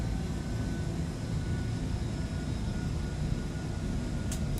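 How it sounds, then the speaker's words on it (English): Steady broadband roar of an aircraft taxiing on the ground, with dense low rumble and continuous engine hiss at constant loudness throughout and no talking. "the resistance on this aircraft whilst taxiing is a lot"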